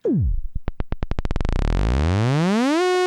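An Arturia CZ-V software synthesizer tone with an inverted envelope, played on a high key, sweeps in with fast stuttering pulses that smooth into a sustained buzzy note, its pitch and brightness swelling upward over about three seconds.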